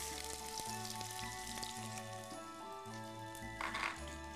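Sliced onions fry gently in oil with small cardamom pods and cloves, a faint continuous sizzle and crackle sitting under background music.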